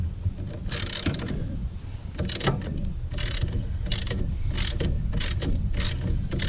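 Ratcheting socket wrench snugging a bolt down against a motorcycle mid-frame while fitting a heat shield, with repeated bursts of clicking pawl strokes in an irregular rhythm, close and moderately loud, no talk.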